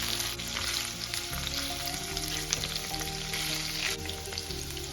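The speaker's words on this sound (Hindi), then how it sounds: "इसमें मैं पनीर के पीसेस डाल दूंगी और इन पीसेस को हम हल्का फ्राई कर लेंगे।" About 200 grams of paneer pieces lightly frying in a pan, a dense, even crackling sizzle throughout, close and steady, with faint clinks and no talking.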